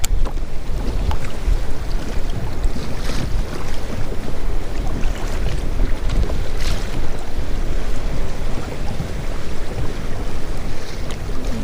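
Choppy whitecap waves slap around a small fishing boat while wind blows steadily, making a dense, continuous wash of splashing water and rushing air throughout, with no talking.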